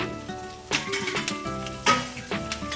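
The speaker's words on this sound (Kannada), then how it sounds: "ಈಗ ಕರ್ಬೇವಿನ ಸೊಪ್ಪನ್ನು ಹಾಕೊಳ್ತಾ ಇದ್ದೀನಿ" Curry leaves dropped into hot oil, sputtering and crackling in a few sharp bursts, with a spoon stirring and clinking against the pan between them.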